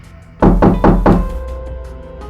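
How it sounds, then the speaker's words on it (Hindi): Four heavy knocks pound on a house door in quick even succession, loud and close, then a fading resonant ring afterward. "दरवाजा पीटियो जरा"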